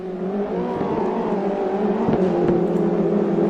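Mini Challenge race cars lapping Donington Park National circuit, engines droning steadily and loud throughout, with a passing whoosh and revving swell as cars sweep through the final chicane toward the start-finish straight.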